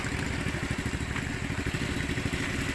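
A small boat's motor runs steadily nearby with a fast, even chugging pulse and some rattling clatter.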